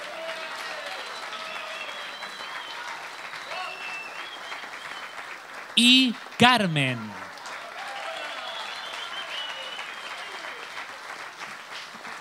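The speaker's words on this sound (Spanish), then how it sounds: "Un fuerte aplauso para los tres" Concert audience at a municipal band's New Year concert applauding steadily throughout, with dense clapping interrupted briefly by a presenter speaking over a microphone.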